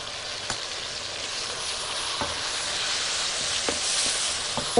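Meat fries over high heat with black pepper in a home kitchen pan. A continuous, fairly loud sizzle and hiss carries a few scattered pops and a clatter near the end, with no talking.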